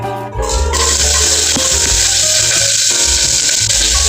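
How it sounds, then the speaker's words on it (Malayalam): Sliced onions sauté for ghee rice, hissing and sizzling loudly and steadily in a hot pan with ghee. Occasional stirring scrapes and clinks break in, and no one speaks. "ഉള്ളി ഇട്ടിട്ട് നമുക്കൊന്ന് ജസ്റ്റ് ഒന്ന് സോട്ട് ചെയ്ത് കൊടുക്കാം"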